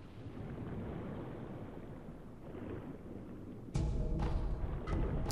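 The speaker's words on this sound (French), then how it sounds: "Je l'entends lancer ses éclairs." In the Fountainhead Palace area of Sekiro, a low, windy rumble of a storm breaks into a sudden loud crack of a lightning strike, followed by rolling thunder and a second, fainter crackle.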